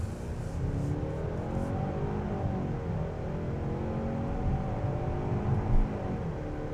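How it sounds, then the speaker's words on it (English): The engine of a 2025 Kia K5 GT Line accelerates onto a highway in normal mode, a steady droning rumble with rising tones under constant road and cabin noise. "You could hear the engine really getting us up to speed there in normal mode"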